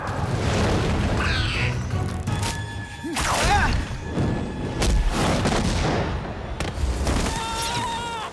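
An animated-film blaster fires a slug, with booming shots, whooshes and whistling sci-fi effects in a busy, loud action mix of several seconds and no clear talking.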